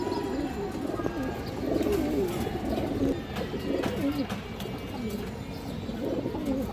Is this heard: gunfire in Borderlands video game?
no